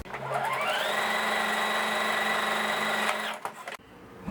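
A sewing machine runs steadily, stitching a seam along the folded tail end of a giraffe-themed nursing pillow; a continuous motor whir lasts about three seconds before stopping, followed by brief handling noises.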